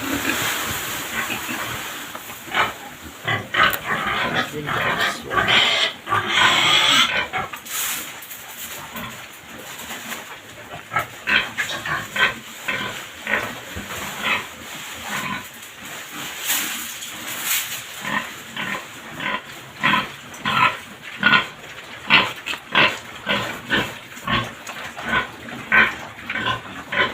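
Pigs on a small farm grunting and snorting while being fed, with many short overlapping grunts at close range in an irregular rhythm, some birds or other animals faintly in the mix.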